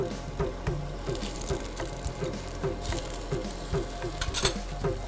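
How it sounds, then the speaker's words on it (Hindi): Millet dish frying in a pan on the stove, a soft continuous sizzle with faint clinks and stirring sounds, turned over to brown on the second side; no one speaks. "अब इस तरफ से भी इसको हम ऐसे ही हल्का सुनहरी होने तक पका लेंगे।"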